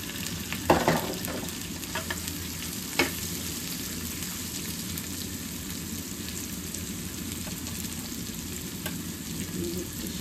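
Chopped potatoes stir-fry in a hot pan, giving a steady close sizzle with a few sharp spatula clatters early on, then settling into an even crackling hiss with no talk.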